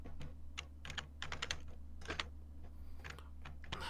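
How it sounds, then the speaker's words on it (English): Rapid typing on a computer keyboard, close and fairly quiet, with bursts of clattering keystrokes separated by brief pauses over a low steady electrical hum. "You hear the typing?"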